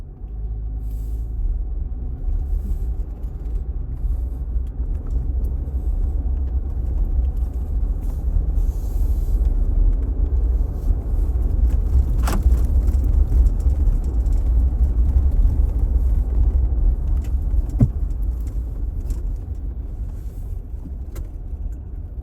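A vehicle driving up the beach sand on Hatteras Island, a continuous low engine and tire rumble heard from inside with a few brief knocks and rattles, steady and fairly loud, no talking.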